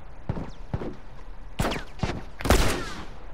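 Gunfire in The Last of Us Remastered: several sharp shots ring out in quick succession, a pair early and then louder bursts later, each fading with a short echo, with no speech.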